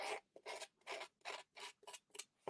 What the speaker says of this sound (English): We used to have a distressing tool that used to do this, but your scissors work just fine.